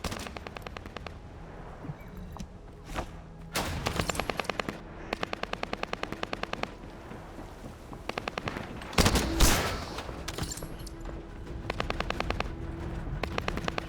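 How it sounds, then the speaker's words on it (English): Bursts of automatic gunfire in a first-person open-world looter shooter, with rapid machine-gun volleys repeating in several strings across the scene alongside a heavier explosive blast, loud and near, with no talk. "That stopped the gunfire."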